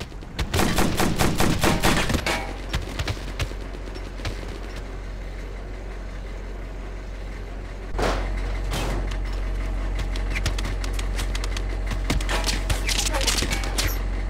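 Suppressive gunfire rattles through an Operation Flashpoint: Dragon Rising battle, with dense, loud volleys of rapid shots over a constant low rumble, thinning briefly before heavy firing picks up again.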